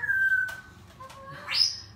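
Small birds chirp and whistle nearby in short, bright, rising calls with quiet pauses between them.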